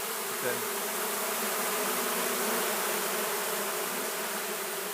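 A dense, loud, continuous buzz of many honeybees swarming close at a hive box, unbroken throughout.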